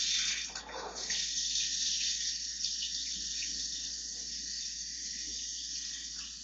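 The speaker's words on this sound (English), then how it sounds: "So I'm going to fill my pot with hot water." A cooking pot fills with hot water from a kitchen tap, giving a steady, close rushing stream that holds a constant level for several seconds. Nobody talks.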